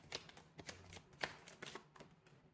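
Cards are shuffled by hand for a reading, giving soft, close riffles and taps in an uneven rhythm.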